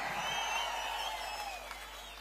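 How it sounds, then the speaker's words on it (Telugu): A large outdoor crowd at a political public meeting in Kuppam claps loudly and steadily, the applause filling the space and slowly fading toward the end. "గట్టిగా చప్పట్లు కూడా చెప్పండి అవునని."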